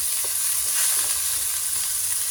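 Steady sizzling and frying hiss from a pan of chopsuey with liver after a little water is added, a continuous dense crackle with light stirring and no voices.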